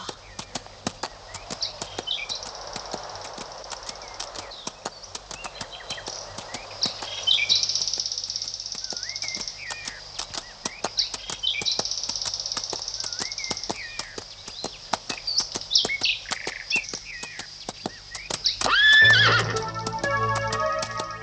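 Horses neigh and whinny repeatedly while hoofbeats clop closer, with birds faintly in the background and a few brief voices near the end.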